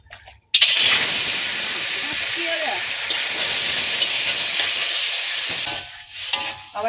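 Chicken tail sizzling in a pan with no oil, a loud steady hiss and crackle that begins abruptly and runs almost unbroken, then eases near the end, with a voice speaking over it.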